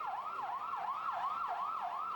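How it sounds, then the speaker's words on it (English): An ambulance siren wails in a fast, repeating rise-and-fall pattern, loud and steady, with faint road traffic underneath. "Streams of ambulances came to carry away the dead and the injured."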